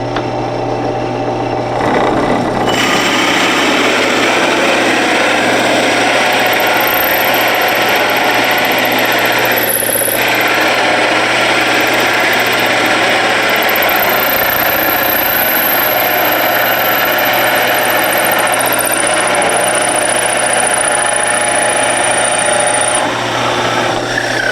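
A power drill fitted with a 1.5-inch hole saw cuts into wood for a holiday woodworking project, a loud continuous whining drone with a steady buzz that runs unbroken and close.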